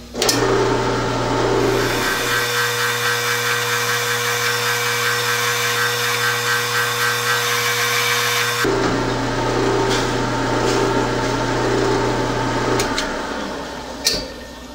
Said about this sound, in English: It's only a short bit of drilling.